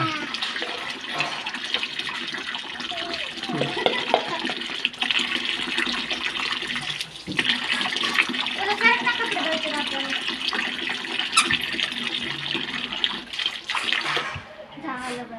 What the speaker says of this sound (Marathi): भरा पाणी पाणी भरा